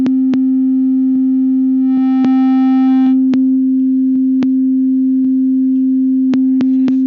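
A steady electronic sine tone sounds alone for about seven seconds, with brief harmonic bursts and regularly spaced clicks breaking in, played through a Minecraft-linked sound setup.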